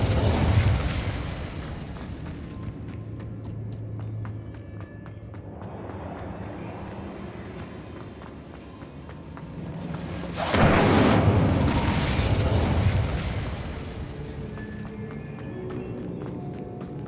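Incendio fire spell cast in Hogwarts Legacy, heard as loud roaring bursts of flame over a constant rumbling game backdrop, with the biggest surge arriving about two-thirds of the way through.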